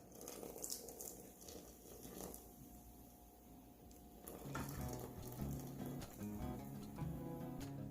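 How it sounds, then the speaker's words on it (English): Water poured slowly into a stand mixer bowl while making pizza dough, a soft trickling splash that grows fuller and louder partway through, close and alone without talk. "You want to slowly pour the water in."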